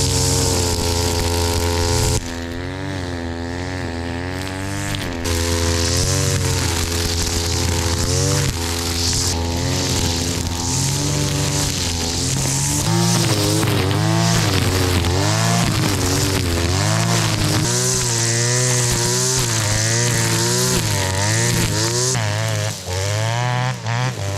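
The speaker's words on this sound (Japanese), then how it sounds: "真冬ですが草刈りをしたいと思います。" A petrol brush cutter runs in a fallow rice field in midwinter, its small two-stroke engine buzzing loudly and steadily for a long stretch, pitch wavering up and down as it cuts through weeds.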